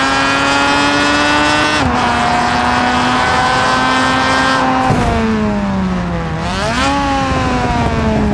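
A Mazda RX-7 in a video game roars at sustained high revs, a loud buzzing engine tone that holds steady, drops sharply with gear shifts, then dips and climbs again.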